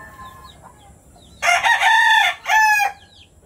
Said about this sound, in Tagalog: Ito po ang 4 times natin na barako, lemon head.